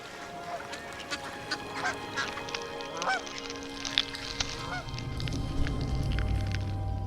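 Several birds honk and quack in short bursts, some near, some farther off, over a low rumbling background that grows toward the end.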